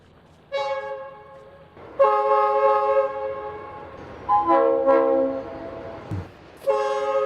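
A train horn alert for a Twitch hype train, several sustained harmonic horn blasts in a row, loud and close, with no talking over them.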